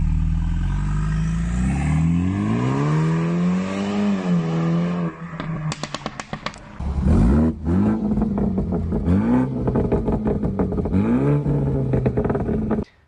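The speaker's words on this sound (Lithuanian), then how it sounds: "Pats variklio garsas iš po kapoto labai erzina" A BMW F30 328xi with a direct-injection petrol engine revs up and down in rising and falling sweeps, cuts out briefly, then resumes with several sharp throttle blips, heard close and with no talking.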